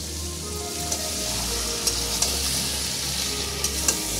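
Black pepper chicken masala sautés with salt and turmeric in a pan, a steady close sizzle with several sharp clicks of stirring scattered throughout.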